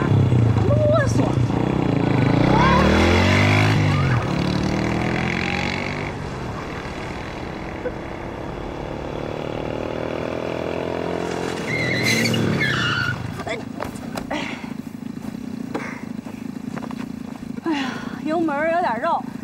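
A vehicle driven hard at speed, its engine roaring and climbing in pitch with tire skids, loud and close, while people talk and shout over it.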